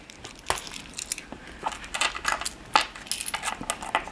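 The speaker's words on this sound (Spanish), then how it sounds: "Ahora vas a coger monedas de tu cartera." Coins taken from a wallet clink and clatter in a string of sharp metallic hits, close and clear, some overlapping in quick bursts.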